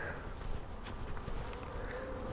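Honey bees buzz during a hive inspection as frames are handled, a continuous low droning hum with a faint rising whine of individual bees passing close, steady and unbroken.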